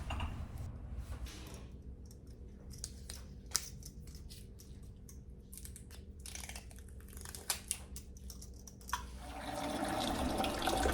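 Water runs into a cooking pot being filled for boiling, a rushing splash starting near the end after quiet clicks and small kitchen knocks.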